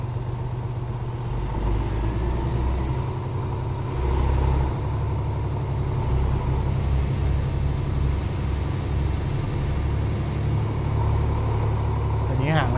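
A truck engine idles in Euro Truck Simulator 2 at a port: a steady low rumble with a constant drone, fairly loud and unchanging throughout, with a brief higher hiss near the end.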